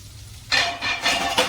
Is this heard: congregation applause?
no